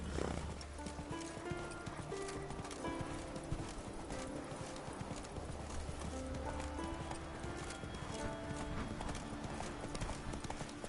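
The horse Roach clip-clops along in a video game, with steady hoof beats and an occasional whinny over game music, brief talk mixed in.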